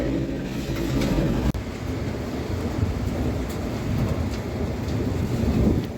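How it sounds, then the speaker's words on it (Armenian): Thunder rumbling low and continuous through a storm with rain and wind, a sustained heavy roar with one sharp crack early on, no voices. "ամպրոպ"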